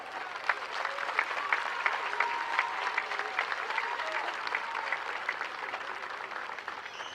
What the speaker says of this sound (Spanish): Este cálido aplauso.